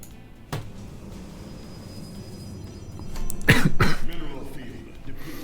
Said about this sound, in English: I just started coughing randomly.